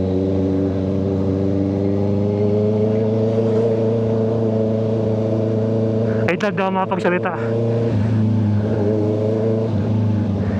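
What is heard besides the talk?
Honda CBR650R motorcycle revving with SC Project exhaust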